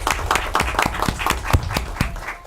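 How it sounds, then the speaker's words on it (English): A small audience at a Rialto Unified School District board meeting claps for honored elementary school staff. The applause is short and fairly sparse, with individual hand claps landing in a loose, uneven rhythm. "Just give them a round of applause."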